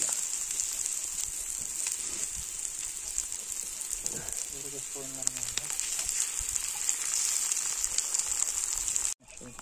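Slices of sucuk, a Turkish sausage, frying on a hot stone slab outdoors in the mountains, giving a steady crackling sizzle throughout with faint background sounds and a brief bump near the end.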